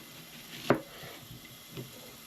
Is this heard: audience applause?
no